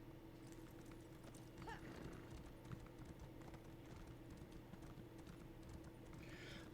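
Steady clip-clop of horse hooves in a video game, a quick rhythmic trot over a faint background hum and soft clicks.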